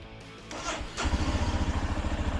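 Royal Enfield Himalayan 411 motorcycle engine, close by, sputtering and catching after a brief mechanical clatter, then settling into a loud pulsing idle-like chug that stumbles as the rev is attempted from low.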